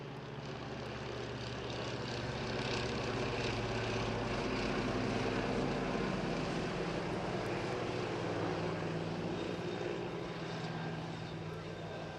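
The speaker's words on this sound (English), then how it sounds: "very distinctive sound from the Nimbus on the Scout helicopter" A Westland Scout helicopter with a Nimbus engine at an air festival in Bournemouth produces a steady, broad turbine roar with rotor throb that swells slightly and holds for the full length, heard at a distance and fairly quiet.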